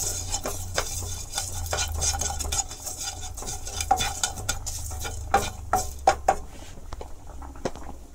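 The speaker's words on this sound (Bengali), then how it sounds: "এটার লাড়াচাড়া করে গরম করে নিলাম" Chili powder and turmeric powder are stirred in a pan while heating, giving soft scraping and light clinks of a spoon against metal over a gentle sizzle, close up with scattered sharper taps.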